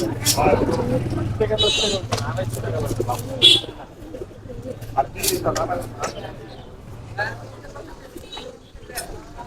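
Pigeons cooing at a crowded outdoor pigeon market in Dakshinkhan, Uttara, with a low steady coo running under loud nearby talk from traders and buyers, plus occasional sharp calls and bustle.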